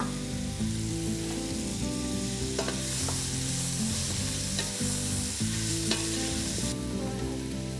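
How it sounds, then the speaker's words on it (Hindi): Onions sautéing in oil already flavored by browned lamb for a Moroccan tagine, a loud continuous close sizzle with occasional stirring scrapes against the pan, no voices over it. "So I'll add a little bit more of oil. And saute the onion."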